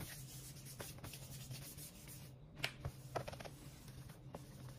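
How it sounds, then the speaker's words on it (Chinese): A cloth rubs back and forth over a part of an ASUS X502C laptop during disassembly, giving a soft, close scratchy rasp with a few light taps, quiet and steady with no talk. "我们给它擦拭干净"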